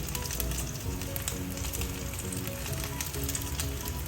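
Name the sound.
corn malai kebabs frying in a pan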